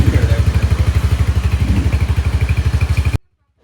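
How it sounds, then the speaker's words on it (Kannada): A new motorcycle engine runs in a steady, fast thumping idle close by, loud and even for about three seconds before cutting off abruptly into silence. "ಇದೇ ನಮ್ಮ ರಾಘವನ ಹೊಸ ಬೈಕ್."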